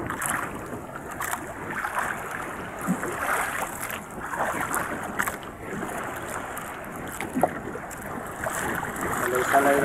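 Strong wind roars steadily outdoors near choppy sea, a constant broadband rush with occasional louder gusts and no talking.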